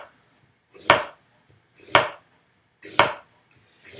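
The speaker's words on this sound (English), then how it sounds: "And I will cut this on a bias" A knife slices a root vegetable on a bias against a cutting board, four crisp evenly spaced chops about a second apart, close and clean with no talk.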